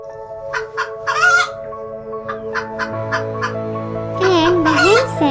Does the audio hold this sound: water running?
no